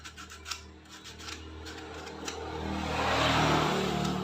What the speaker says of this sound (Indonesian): kita amplas ini ya, yang ngapur tadi